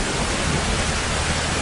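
Heavy rain pours steadily in a scene from a Filipino comedy film, a dense, even wash of hiss that stays constant and fairly loud with no talking.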